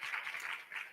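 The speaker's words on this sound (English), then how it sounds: "Give a round of applause." A crowd at a Martin Luther King Jr. day of remembrance applauding steadily for about a second, a dense wash of clapping with no voices over it.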